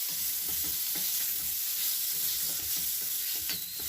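Butter sizzles steadily in a hot pan with green beans, a loud continuous frying hiss with faint soft stirring taps underneath.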